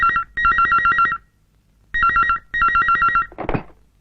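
A telephone rings loudly in a rapid, warbling electronic double pattern, two bursts, a pause, then two more, followed by a brief thump of handling.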